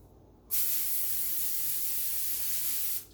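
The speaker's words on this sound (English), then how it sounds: "A little cooking spray, which I will spray in right now." Cooking spray hisses from an aerosol can into a foil-lined baking pan for a single steady burst of about two and a half seconds, close and fairly quiet.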